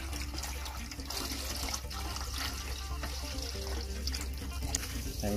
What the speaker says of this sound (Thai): ล้างน้ำส้มสายชูด้วยพี่น้อง